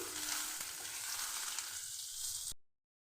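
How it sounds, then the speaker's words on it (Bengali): Raisins frying in ghee in a kadai, a bright continuous sizzle with light crackling that runs steadily and then cuts off abruptly into silence. "কিশমিশ ধুয়ে ঘি দিয়ে ভেজে নিচ্ছি।"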